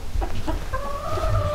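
Hens cluck in a winter chicken coop, a flock split between a corner and the rest of the pen, giving a steady run of close, overlapping clucks and a drawn-out tonal call near the end.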